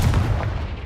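Confringo fire-blast spell in the Hogwarts Legacy video game: a heavy, punchy explosive boom with a rumbling low body, short and loud with no speech over it.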